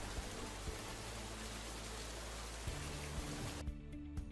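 A rendered rain effect in architecture software: steady rain hisses as a dense, even wash of noise, then thins abruptly near the end, with soft low thumps scattered throughout.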